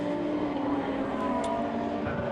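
A race car at Silverstone during a Blancpain Endurance Series race, its engine a loud, sustained, buzzing roar with steady high harmonics that holds close throughout the short stretch.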